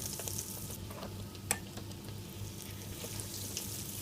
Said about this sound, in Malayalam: ഇതുപോലെ നമുക്ക് അടുത്ത ബ്രെഡ് കട്ട്ലറ്റ് കൂടെ ഫ്രൈ ചെയ്യാം